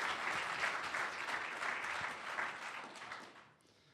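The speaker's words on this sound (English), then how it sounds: "Let's give him a round of applause" Audience applause after a keynote at an international cybersecurity summit, steady dense clapping from a large crowd that fades out near the end.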